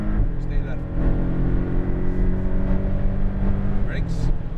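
A Porsche Cayman GTS engine drones loud and steady on a race track, with rising and falling pitch through upshifts under an instructor's spoken directions.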